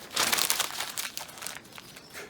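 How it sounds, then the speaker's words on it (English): A sheet of paper is crumpled into a ball by hand, giving a loud, close crackling burst that tapers into softer crinkles. "crumple this one up"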